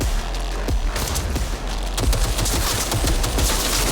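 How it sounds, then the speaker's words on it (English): Repeated shotgun blasts in the video game Cyberpunk 2077, a rapid string of loud, punchy shots fired close up over a dense, noisy combat backdrop. "I guess I'm shooting with a shotgun, maybe too far away."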